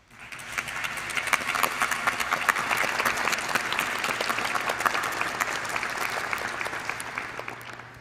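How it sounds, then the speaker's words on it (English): Audience applause at an allied health graduation ceremony, steady clapping from many hands that holds evenly for several seconds, fairly faint and distant. "anyone else who helped make today happen by sharing our applause"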